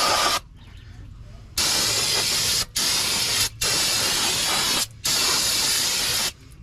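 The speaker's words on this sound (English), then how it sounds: "So I'm going to hit it with some brake clean real quick." Brake cleaner sprayed onto the hub face of a 2016 Scion tC during front brake pad replacement, a loud close hiss in several bursts of varying length separated by short pauses.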